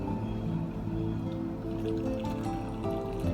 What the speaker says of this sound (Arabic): نصب في الطاسة هذه